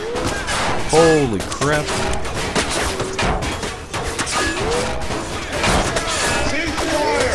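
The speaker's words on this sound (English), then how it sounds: "Cease fire! Cease fire! Hey! Hey, stop fucking firing!" Rapid gunfire bursts in the video game Underhell, loud and close, overlapping with shouting voices and crashing impacts in a chaotic firefight.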